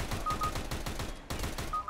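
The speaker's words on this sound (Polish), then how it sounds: "Randomowy strzał, widzicie?" Gunfire in the video game CS:GO, a rapid burst of shots on the Inferno map, fairly faint and continuous across a brief moment.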